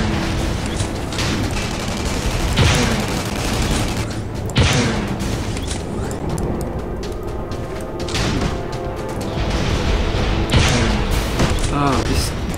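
Gunfire in the video game Tribes: Ascend, bursts of shots and booming impacts over a constant dense backdrop of game noise, with someone talking throughout.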